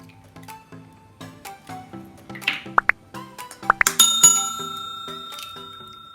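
Eggs dropped into a mixing bowl while making Quarkbällchen, giving a couple of soft wet plops and light clinks over steady background music, with no talking.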